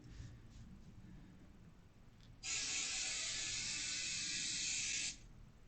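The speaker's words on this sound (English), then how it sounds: "So we're just going to spray baste this to the bottom. Just loosely spray baste it." Spray baste adhesive hisses from an aerosol can onto quilting fabric for a table mat, one steady burst lasting a few seconds after brief faint puffs, close and fairly loud in a quiet room.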